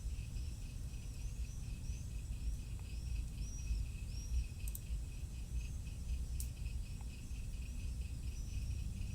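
Faint outdoor birdsong with repeated high chirps and trills over a steady insect-like hum and low background rumble.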